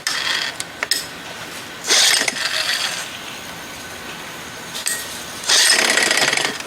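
Someone tries to start a 1975 Johnson 4 hp outboard motor with the choke on. There are two loud rasping pull-cord bursts a few seconds apart, with quieter clicks and rattles between them.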